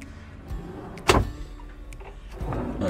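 A drawer in a camper van kitchen unit slides open with a short, sharp scrape and knock, followed by quieter rustling and handling sounds nearby.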